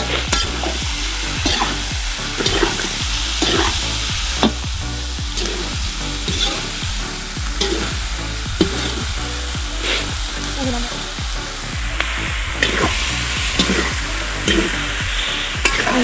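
Chicken fries in oil, Chhattisgarhi country style, with a steady loud sizzle broken by frequent scraping stirs throughout, with no talk.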